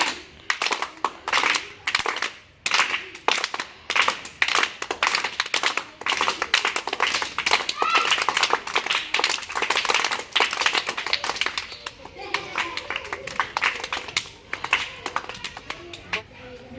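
A group claps hands in a steady, rhythmic beat that speeds up into continuous, loud clapping lasting several seconds.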